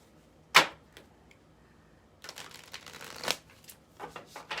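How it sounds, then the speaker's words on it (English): Tarot cards being shuffled by hand, a sharp riffle snap followed by soft quiet pauses, then a longer run of papery flicking and sliding with a few crisp peaks, close and fairly quiet. "One more shuffle."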